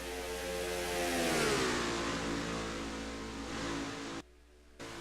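Race car engines in a stock-car racing video game at Texas roar past close by, pitch sweeping downward as they pass, then a steady engine drone that cuts out briefly near the end.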